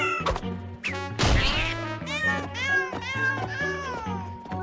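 A cartoon character voices a string of exaggerated meows and yowls imitating a cat, loud and close, with a sharp crash or whack partway through amid lively background music.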